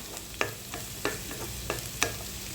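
Onions sautéing in a pan for chicken chili curry, a steady close sizzle with a few sharp scraping stirs of the spoon at regular intervals, no talking.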